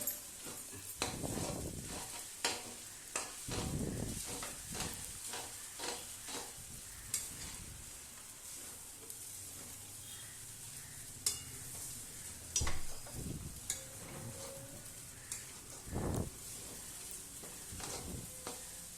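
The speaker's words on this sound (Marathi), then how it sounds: "तर बघा परत एकदा मैत्रीणं मिक्स करून घेते मी भाज्या शिजलेल्या आहे" Vegetables frying in a pan for noodles sizzle steadily as a utensil stirs and scrapes through them, giving close, repeated scraping strokes over the continuous hiss.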